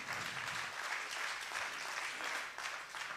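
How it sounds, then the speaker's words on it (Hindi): A seminar audience in a hall claps loudly and steadily for a Noni drink presentation, a dense continuous wash of applause with no speech. "मैं चाहता हूँ एक बहुत ज़ोरदार ताली आप नोनी के लिए करते हैं।"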